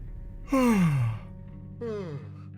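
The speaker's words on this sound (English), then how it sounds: "Did I make that yawn sound, or is that like a default yawn sound?" A person lets out two drawn-out yawns while stretching, each a loud voiced exhale that slides downward in pitch, the first longer and the second shorter after a brief pause.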